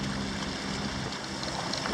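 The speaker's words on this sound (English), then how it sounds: "That's us sailing round, no, motoring round Ardnamurchan Point now." A sailing yacht motoring under engine around Ardnamurchan Point, giving a steady broadband rush of wind and water with a low engine drone beneath, constant and close throughout.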